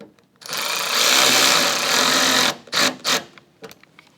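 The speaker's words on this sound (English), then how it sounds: "Now we're going to take our 4mm Allen and tighten our inner screw down." A 4mm Allen hex bit tightens the inner screw of a Rokblokz rally-style mud flap on a 2022+ Nissan Frontier, giving a close, steady mechanical whir for about two seconds, followed by a few short clicking bursts.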